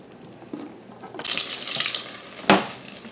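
Real butter and oil heating in a pan before browning rouladen, a soft crackling fry with a few sharper pops, one loud snap near the end, and no talking.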